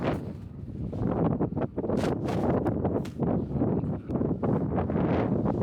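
Strong wind blowing at a dam, heard as loud, continuous gusting buffeting against the microphone with rumbling bursts throughout and no speech.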